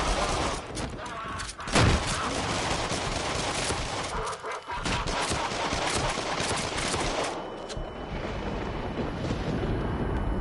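Pistol shots in the horror shooter VR game Until Dawn: Rush of Blood come as a dense barrage of loud, close bangs over a constant roaring game soundscape, with a brief lull partway through.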